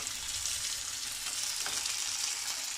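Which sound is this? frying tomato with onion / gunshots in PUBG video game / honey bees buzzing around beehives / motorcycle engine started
frying tomato with onion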